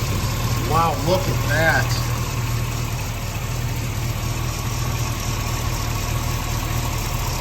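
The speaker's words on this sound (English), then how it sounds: "under the hood we have is a small block Chevy high horsepower V8" A high-horsepower small block Chevy V8 in a 1940 Ford Deluxe Coupe idles with a deep, steady rumble throughout, while someone briefly exclaims over it near the start.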